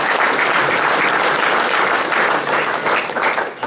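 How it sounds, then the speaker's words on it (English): Audience applause at a Phillipsburg town council meeting, steady dense clapping from a full room that holds loud throughout and thins slightly near the end. "give yourselves a round of applause for whatever reason why you're here"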